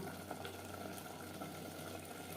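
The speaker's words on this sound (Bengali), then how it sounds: "সাত আট মিনিট হাই টু মিডিয়াম ফ্লেমে মাংস কষিয়ে নেব" Mutton braising in a pot on a high-to-medium flame for a potato mutton curry, a low continuous bubbling simmer, even and close, with no talk.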